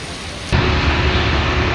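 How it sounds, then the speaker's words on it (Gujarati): Rain falls on a city road during the first monsoon shower, a dense, loud broadband hiss that suddenly swells and then holds steady. "વરસાદ હમણાં ચાલુ છે"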